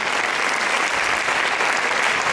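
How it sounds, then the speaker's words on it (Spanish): An audience at a spring festival applauds loudly and steadily, with thick overlapping clapping that stays at a constant level throughout and no voices. "Un fuerte aplauso que se escucha ahí."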